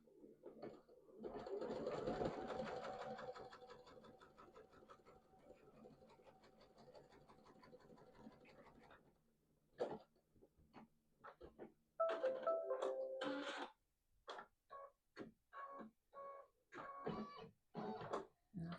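An embroidery sewing machine stitches a quilted bench pillow, a long steady whirring run of rapid needle strokes, then a pause and a series of shorter, choppier stitching bursts, fairly quiet and close.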